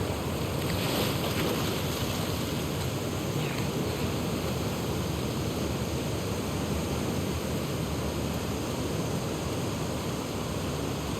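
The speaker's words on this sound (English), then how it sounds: "it remained in essence in the section swimming to the aquarium as Ellie, when you were avoiding the waves" Steady ocean waves wash and surge without pause while Ellie swims toward the aquarium in The Last of Us Part II, a loud, dense roar of water with a faint windy hiss and no voices.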